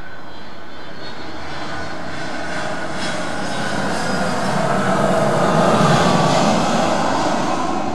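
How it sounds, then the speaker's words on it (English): A jet aircraft taking off, a loud continuous broadband engine roar that holds steady and swells slightly toward the end, heard alone with no talk. "And this is a takeoff a jet."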